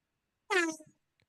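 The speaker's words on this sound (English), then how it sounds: "It's an air horn." A single short air horn blast at a baseball playoff game, with a harmonic, slightly bending tone, brief and moderately loud, followed by a faint click, otherwise quiet.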